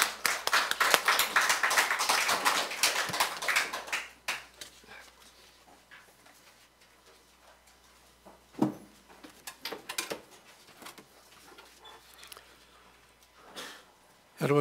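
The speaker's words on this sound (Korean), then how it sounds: "박수 한번 부탁합니다." A church congregation claps together at a Sunday worship service, a dense burst of applause for about four seconds that then drops away into quiet room noise with a few scattered sounds.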